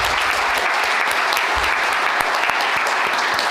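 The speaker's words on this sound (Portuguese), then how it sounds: "Uma salva de palmas para os pais." Sustained applause from a crowd at a folk dance group's anniversary award ceremony, a dense, even clatter of clapping that holds at a steady loudness throughout.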